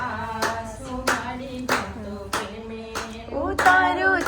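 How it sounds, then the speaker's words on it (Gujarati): A few people at a family birthday celebration clap in a slow, uneven rhythm, single claps spaced about half a second apart, with a singing voice and music running underneath. "તાળી પાડો ને થોડી"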